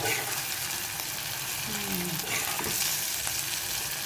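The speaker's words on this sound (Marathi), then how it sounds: "कांदा छान परतून झालेला आहे" Onions for potato curry sauté in a pan, a loud, even sizzle and frying hiss that fills the whole stretch, with faint stirring scrapes mixed in.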